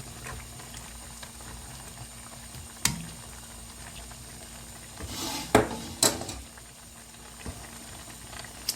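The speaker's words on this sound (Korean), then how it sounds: "자, 이렇게 해서 끓여보도록 하겠습니다." A pot of kimchi stew with leftover bossam pork simmers in a kitchen, giving off a faint, steady bubbling hiss broken by a few sharp clinks of a lid or utensils.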